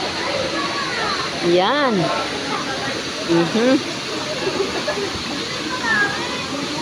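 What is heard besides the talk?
waterfall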